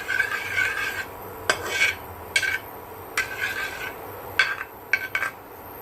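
A spoon scrapes and rasps against a pan while stirring a thickening milk and bread mixture over a gas flame, in repeated short strokes with brief pauses, close and fairly quiet.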